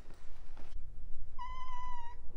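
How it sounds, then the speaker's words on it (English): A house cat purrs as a soft low rumble running underneath, while a brief higher tonal cry rises above it near the end. "That is a purr."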